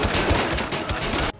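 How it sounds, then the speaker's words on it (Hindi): Rapid burst of gunfire in a film scene, two or three close, loud shots in quick succession amid a dense, continuous clatter that cuts off abruptly at the end. "जवाब में सियोक हो ने भी उस पर गोली चलाई"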